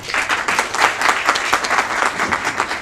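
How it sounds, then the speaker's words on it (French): Audience applause at an event, a steady burst of many hands clapping, close and fairly loud, sustained without a break through the whole stretch. "il mérite tous les applaudissements"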